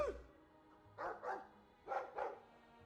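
Dog barking in the video game Dragon Age 2, four short barks in two quick pairs, close and fairly quiet over a low background.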